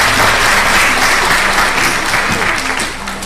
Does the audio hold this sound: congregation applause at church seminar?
yes